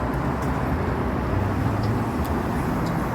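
Steady, loud rumble of street traffic at a Jamaican roadside bus stop, a continuous wash of passing vehicles with no distinct voices.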